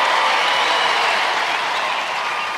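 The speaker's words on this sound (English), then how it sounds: "Let's hear it for Jamo from Finland" A crowd at the National Indoor Arena cheers during an International Gladiators contest, a dense, loud wall of applause that holds steady throughout the short stretch with no speech over it.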